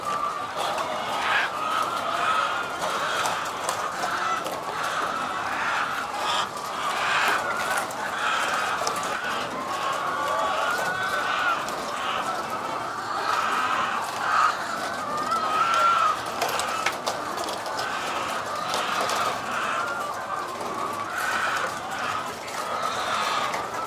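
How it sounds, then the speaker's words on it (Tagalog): A flock of hungry farm chickens clucks and chatters at feeding time, a constant busy murmur of many birds close by with scattered sharper calls and scuffling over the whole stretch. "Gutom na gutom na yung mga manok namin."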